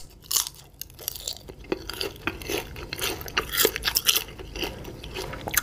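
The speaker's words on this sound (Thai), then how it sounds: "เขาดูมีความกรอบมากเลยนะครับกับเจ้าใบขนุนนะเดี๋ยวเราลองมาฟังเสียงกินกัน" Crispy deep-fried jackfruit leaves are bitten and chewed close up, loud brittle crunches in repeated irregular bursts with softer chewing between, no talk.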